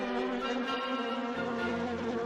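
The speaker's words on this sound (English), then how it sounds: "After that, she sent a swarm of bees." A swarm of bees buzzing steadily, a dense continuous drone that holds level throughout, close and alone with no voices.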